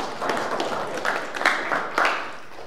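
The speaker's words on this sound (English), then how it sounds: "please give a round of applause" Small audience at a town hall gathering applauding, a brief scattering of claps rising and fading, fairly quiet and thin rather than a full roar.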